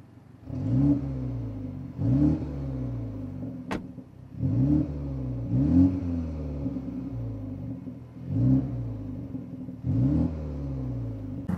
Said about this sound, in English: Now with both the exhaust flaps open, I'm gonna just give the car some revs.